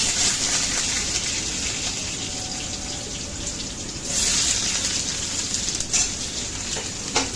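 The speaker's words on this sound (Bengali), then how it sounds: "আলুগুলো ভেজে নেব বলে আলুগুলো তেলে ছেড়ে দিলাম।" Potatoes dropped into hot oil fry with a loud, continuous crackling sizzle, with brief surges of bubbling partway through and no voices over it.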